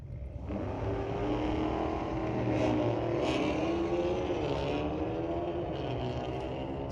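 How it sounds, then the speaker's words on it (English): A 1979 Chevy drag car with a strong motor launches at a street-legal drag night at Mission Raceway, its engine roaring steadily and loudly as it accelerates through the gears, rising in pitch, with no talk over it. "Strong motor in that 79 Chevy"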